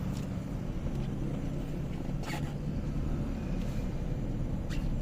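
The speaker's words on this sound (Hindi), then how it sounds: "चलें जी, लेट्स ड्राइव द कार।" A 2023 Honda N-One with a 660cc engine and CVT gearbox pulls away, a steady low engine rumble heard from inside the cabin, with a few faint clicks and knocks over the continuous hum and no talking.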